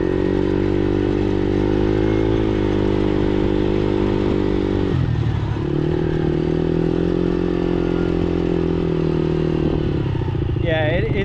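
Small kids' quad bike engine running steadily at a buzzy high idle or cruise, dropping in pitch briefly then holding, with a revving rise and clatter near the end; loud and close.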